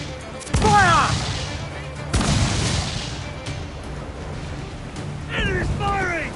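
Ship cannons fire in Assassin's Creed IV Black Flag: two heavy booms near the start and another pair late, each a sharp broadband blast with rumbling decay, alongside shouted voices and pitched creaking or whistling tones.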